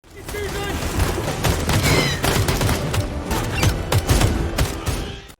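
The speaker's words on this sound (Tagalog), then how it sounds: "Walang tigil ang putukan ng mga sundalo" Soldiers fire nonstop in a movie battle scene in Vietnam, a dense, loud fusillade of overlapping gunshots and bursts that runs throughout without a break.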